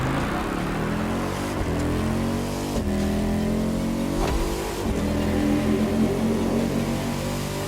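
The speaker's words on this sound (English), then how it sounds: "A Ferrari so extreme that it can never be driven on the road, nor qualify for any kind of official competition" Ferrari FXX-K race car engine revving hard in the Motorfest racing game, a loud, sustained high-pitched roar with rising and falling pitch sweeps and brief gear-shift breaks, steady and close throughout with music underneath.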